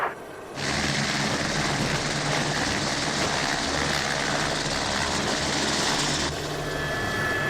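A loud, steady engine roar with rotor-like drone fills the clip, starting abruptly and holding constant throughout, like riding inside a helicopter.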